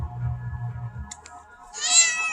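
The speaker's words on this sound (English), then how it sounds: "my cat is kind of getting upset with me" An upset cat gives a single drawn-out, rising meow near the end, close and clear, after a stretch of low murmuring background sound.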